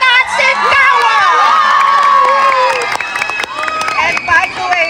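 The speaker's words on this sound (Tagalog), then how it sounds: "Ang tanging hinihiling lang po namin ang masigabong bonggang palakpakan at sigawan!" A large crowd at a pageant-style national costume event cheers, whoops and claps loudly and continuously, with shouting voices and high screams rising and falling throughout.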